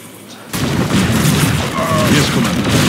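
Weapons fire and explosions in a StarCraft 2 custom melee battle start abruptly as a dense, loud, continuous rumble of blasts and bursts and keep going without pause to the end.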